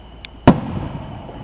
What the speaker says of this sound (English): let me get zoom in on the fireworks